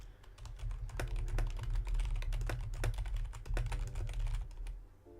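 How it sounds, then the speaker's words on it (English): Rapid clacking of a computer keyboard during photo editing, with dense, irregular keystrokes close by and a few brief pauses, alone without speech. "Press the D key on your keyboard."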